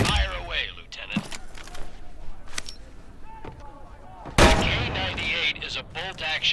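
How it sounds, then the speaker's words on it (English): K98 bolt-action rifle shots in the video game Medal of Honor: Above and Beyond, several sharp, separated reports, the loudest near the end, over busy game sounds and background voices. "K98 is a bolt-action rifle, so you reload by pulling and pushing the bolt after each shot"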